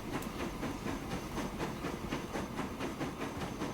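Trains running in Transport Fever 2, a steady rolling rumble with a regular rhythmic clatter of wheels over rail joints, moderately quiet and continuous, with no voices.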